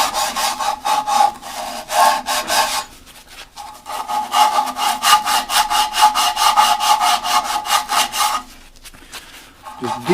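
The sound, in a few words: sanding grooves of a turned wooden barrel with sandpaper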